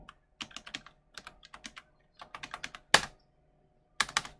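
Password keys are tapped on a computer keyboard in short irregular bursts of clicks, close and clear, with pauses between groups and a couple of louder strokes near the end.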